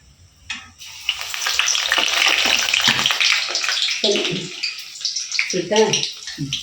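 Vada with a hole in the middle, a Tamil snack, dropped into hot oil and frying. A steady loud sizzle and bubbling runs throughout, with a few soft clinks and taps near the end.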